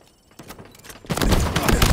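Gunfire in a video game battle over captured strongholds, starting as faint scattered cracks and swelling into a loud, dense volley of shots.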